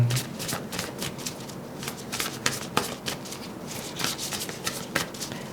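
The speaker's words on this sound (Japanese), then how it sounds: "ちょっと最後にもう一枚引いてみましょうか" Tarot cards shuffled by hand with quick riffling and sliding bursts, close and fairly loud, before a single card is drawn from the deck, with no talking.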